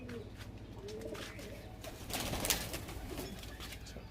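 Soft, low pigeon coos close by, repeated murmuring calls over faint background noise, with a brief flutter-like burst midway.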